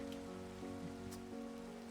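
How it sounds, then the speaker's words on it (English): Steady hiss of rain falling in the game Minecraft, soft and continuous across the whole stretch, with a low tonal drone underneath and no talking. "Apparently Minecraft has decided we need rain"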